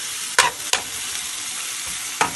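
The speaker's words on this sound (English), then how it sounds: "to this I'm going to be adding my ginger garlic" Ginger garlic frying in turmeric-tinted vegetable oil, a close steady sizzle broken by three sharp stirring scrapes against the pan, with no voices.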